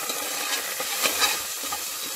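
Onion, ginger-garlic and salt sizzle steadily in a hot pan while being stirred, with a few soft scraping strokes over the continuous frying hiss.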